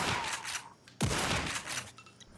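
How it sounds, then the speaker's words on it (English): Rapid turret gunfire in the Black Mesa mod game, a dense burst of shots echoing through a tunnel, with a sharp, loud blast midway and quieter trailing shots. "I forgot to take out the first turret at the beginning and I get shot as I travel down the tunnel with it shooting behind me"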